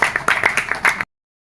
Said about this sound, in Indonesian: Tepuk tangan lebih dahulu Bapak dan Ibu